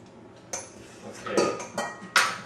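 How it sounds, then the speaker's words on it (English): A sharp paring knife trims the outer leaves off an artichoke, giving several sharp knocks and scrapes against a cutting board at uneven intervals, close and fairly loud. "Always helps to have a really sharp paring knife. I'm just going to take the outer portion of that off, trim it down a little bit."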